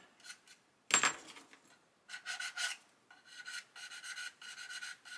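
A sanding stick rasps against the wing root of a 1/35 plastic Ju 87 G Stuka model in short, quiet scratchy strokes, with one sharp tap and then rhythmic bursts of rubbing, close and alone.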